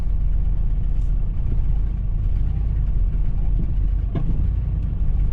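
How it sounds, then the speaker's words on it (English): A rough-running engine on bad gas idles with a steady low rumble, and one sharp backfire pop cracks out near the end, with heavy machinery such as an excavator or skidder running nearby. "Backfiring like a bastard."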